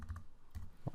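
A few quiet keystrokes as an account number is typed on a computer keyboard, soft clicks in two small clusters with one firmer tap at the end.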